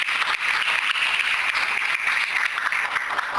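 Church congregation claps for the Lord in a sustained, even burst of applause, loud and close, continuing steadily without talk on top.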